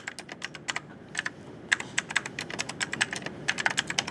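Someone types on a computer keyboard at a desk, a steady run of sharp, close clicks in quick irregular bursts over faint room hiss, no voices.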